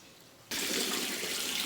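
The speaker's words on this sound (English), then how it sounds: "Wash the rice till you see clean water coming." Rice is washed under running water in a kitchen, the flow starting abruptly after a quiet moment and then continuing as a steady, fairly loud splashing rush.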